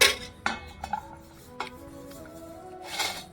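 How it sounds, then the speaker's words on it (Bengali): A steel plate gets greased with ghee for semolina burfi, giving faint close scraping and light clinking of utensil on metal in a few short irregular strokes. "থালার মধ্যে আমি একটু ঘি বুলিয়ে দিচ্ছি"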